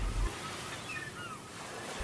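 Sea waves wash onto a beach in a 2D animated film set on the Prancak Jembrana shore in Bali, a steady soft surf hiss with a faint low rumble, continuous and alone.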